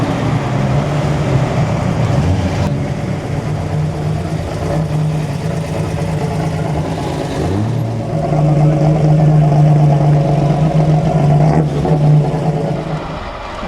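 BMW cars passing during the Mille Miglia road race, mid-pitched engines humming and revving by nearby, one after another, with steady rumbling and a clear acceleration partway through.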